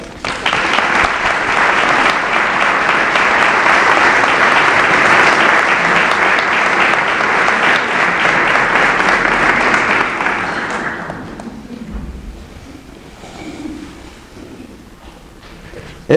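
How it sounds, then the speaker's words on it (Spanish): Audience applauds loudly for sculptor Manuel Miñarro at the unveiling of his painted canvas, a dense, sustained roar of clapping for about ten seconds before it fades to a quieter room with faint sounds. "Por eso pido un fuerte aplauso para él"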